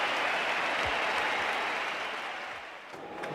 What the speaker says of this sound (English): Listen to the crowd. They're loving this tail wagging here at the Sydney Cricket Ground.